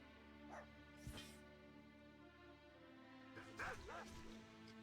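A pet dog in the World of Warcraft video game gives a couple of short, faint yips and barks, separated by a pause, over a steady low game background hum.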